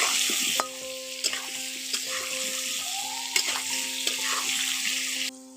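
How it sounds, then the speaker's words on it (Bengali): Potatoes frying in hot oil for a chicken curry, a steady close sizzle with repeated scrapes and clinks of a spatula stirring the pan, and no voices. "আলুগুলো দিয়ে ভালো করে আলুগুলো ভেজে নেব"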